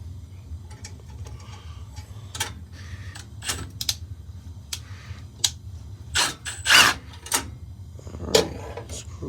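A power tool backs screws out of a gas furnace panel during a flame sensor check, with scattered clicks and bursts of whirring at varying loudness over a steady low hum, and no talk.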